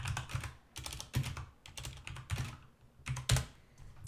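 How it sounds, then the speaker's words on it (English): Someone types on a new computer keyboard in short bursts of soft, close keystrokes with brief pauses between clusters, heard alone at moderate volume. "I just updated my editor here, and I'm using a new keyboard."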